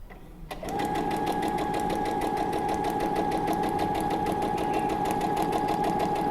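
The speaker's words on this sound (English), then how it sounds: "so now we'll just sew" After a brief quiet start, a sewing machine starts up and runs steadily, a loud, even mechanical whir of stitching through fabric close by that continues without a break.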